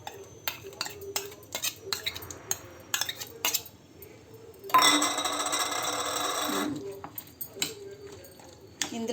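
Ginger garlic paste blended with green chillies being stirred into a pot of veg biryani, with scattered spoon clinks and scrapes against the pot, a loud sizzling burst in the middle, and a voice talking throughout.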